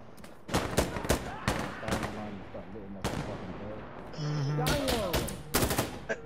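Sharp single shots and short automatic bursts ring out in an Insurgency: Sandstorm firefight, loud and near, spaced irregularly among players calling to each other.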